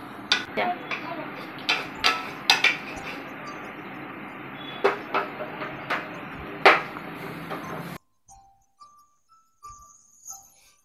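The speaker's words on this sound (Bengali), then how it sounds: "ওকে একটু জল, একটা কড়াই এবং একটা খুন্তি দিয়ে দিতে বেশ সুন্দর আমেজে রান্না বান্না করছে" A child stirs water in a wok with a metal spatula, making quick bright clinks and ticks at an uneven pace, close by, before the sound stops and only a few faint taps remain.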